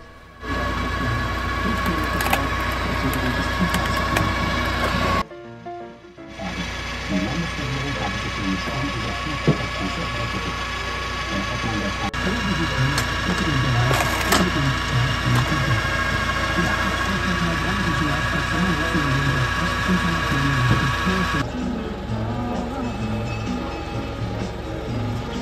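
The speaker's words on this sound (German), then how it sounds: "Hier wird Brennholz gesägt und mit der Maschine gespalten." A machine saws and splits firewood with a steady, loud mechanical rattling and grinding that runs almost the whole time, broken by a brief drop after about five seconds.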